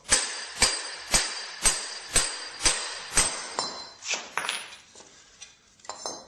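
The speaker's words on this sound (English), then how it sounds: "then just start hammering it out." Sharp metallic hammer blows ring out in a steady rhythm, about two per second, hammering out a front-wheel-drive hub assembly, then turn lighter and more irregular as the striking tapers off.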